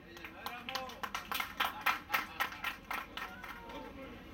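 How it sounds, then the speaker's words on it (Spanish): Applause breaks out at a livestock fair ceremony honoring cattle ranchers in Martínez de la Torre, a run of sharp overlapping claps from a modest audience, rising and then tapering over a few seconds, with some talk mixed in. "Un aplauso."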